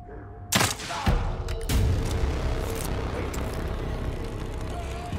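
Gunfire in the horror video game The Evil Within 2, a couple of sharp loud shots early on followed by a dense rumbling game soundscape, with a voice talking over it.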